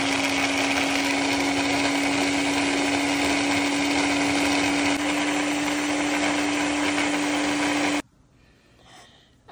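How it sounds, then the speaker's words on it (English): A blender whirs steadily and loudly while blending garlic, rosemary and olive oil, running at a constant pitch for about eight seconds before cutting off abruptly into near silence. "I'm gonna be blending the garlic, some rosemary. I've brought all back my rosemary and some olive oil together"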